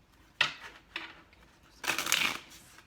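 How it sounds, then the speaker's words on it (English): Tarot cards riffled and shuffled by hand in three short bursts, a quick flutter, a pause, then a longer, denser run of papery snapping near the end, fairly close and quiet. "One more shuffle."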